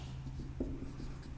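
A chemical equation goes down on a board or paper in a chemistry lesson, heard as soft, close scratching strokes with small taps over a low steady hum.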